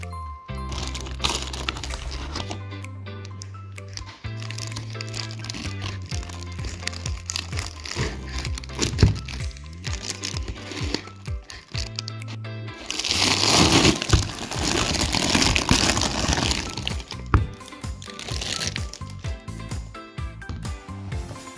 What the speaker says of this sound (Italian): Adesso lo spacco in mille pezzi, questo uovo di cioccolato.